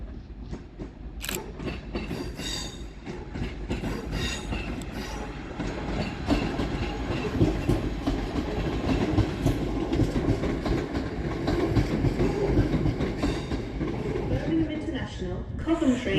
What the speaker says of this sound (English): Coming around the corner, terminating with a Northern Rail service from Manchester Piccadilly